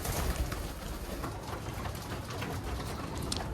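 Pigeons feeding, with soft cooing and a busy scatter of pecking and fluttering close by, a continuous low murmur of birds throughout.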